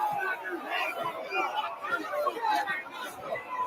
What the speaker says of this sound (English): the crowd is angry at the cops for doing that, the bobbies